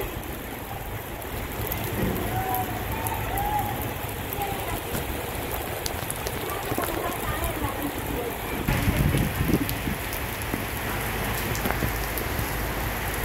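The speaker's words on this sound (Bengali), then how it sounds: "আসার সাথে সাথে বৃষ্টি হচ্ছে" Steady rain patters down in a continuous wash at a school ground where children are playing football, with faint background voices and a brief louder splash of water near the end.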